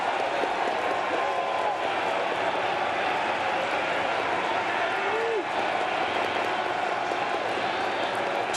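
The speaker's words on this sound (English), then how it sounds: "Crowd bundled but boisterous." Steady wash of crowd noise at a Giants vs Mets baseball game, a broad murmur of many fans filling the ballpark at an even level, with a distant commentator talking beneath it.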